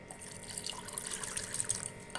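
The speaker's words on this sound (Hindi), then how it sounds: "अब मैं इसके अंदर 1 कप पानी और डालूंगी" Water poured into a bowl of besan (gram flour) batter, a steady, soft trickle and splash close by, continuous for a couple of seconds with no talk.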